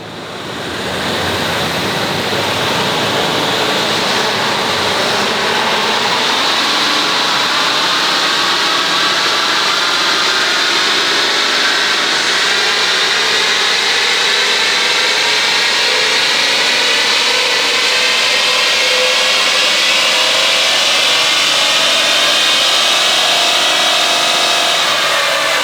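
A 2025 RAM truck's engine roars continuously on a dyno pull, loud and close, its pitch climbing steadily over about 25 seconds as revs build, with no voices.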